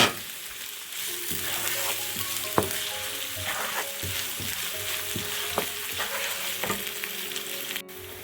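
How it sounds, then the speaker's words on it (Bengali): Chopped onion hits hot oil already browned with garlic for rice noodles, giving a steady loud sizzle with a few sharp spatula knocks and scrapes spaced through it, no voices. "রসুনটা বাজা হয়ে গেছে দিয়ে দিচ্ছি একটা পেঁয়াজ কুচি"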